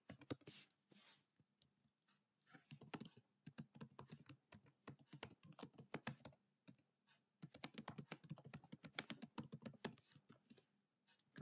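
Close computer keyboard typing while React lifecycle code is entered, with irregular bursts of rapid key clicks separated by short pauses over a long stretch.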